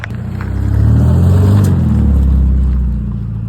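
A turbocharged car engine with gutted catalytic converters revs up and pulls away with a rising, throaty roar and turbo spool and flutter that swells, then eases slightly, heard close by.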